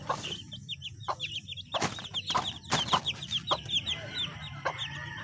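Hungry chicks and chickens on a farm cluck and peep close by, with bright repeated chirps layered over lower clucks and scattered scratching sounds.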